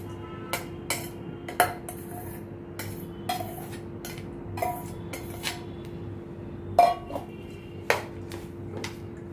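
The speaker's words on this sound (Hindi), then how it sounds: "ये बाउल मेरे को छोटा हो रहा है, इसको अभी मैं बड़े बाउल में ट्रांसफ़र करती हूँ सभी को।" Bread pakoda ingredients are scraped from a small bowl into a bigger one, with a series of sharp metallic clinks and taps of a spoon against the bowls, spaced irregularly against a quiet background hum.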